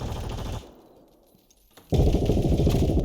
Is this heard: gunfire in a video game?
yes